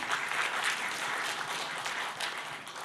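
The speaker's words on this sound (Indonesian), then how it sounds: "Tepuk tangan untuk Pak Oli." An audience at an award ceremony applauds steadily, a dense wash of clapping from many hands that holds evenly throughout.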